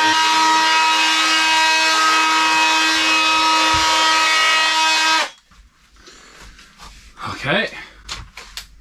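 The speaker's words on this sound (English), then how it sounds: "Multi-tool, slight angle. It just kind of slides along." An oscillating multi-tool held at a slight angle cuts through wood in an old farmhouse bedroom renovation, a loud steady buzzing drone lasting about five seconds before stopping abruptly, followed by quiet handling noises and brief talk.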